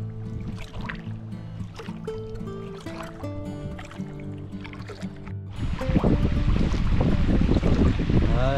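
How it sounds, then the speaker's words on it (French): A light north breeze blows while kayaking on a river, first under tonal background sound, then turning into strong wind rush and water noise that grows louder near the end. "Il y a une petite brise de nord."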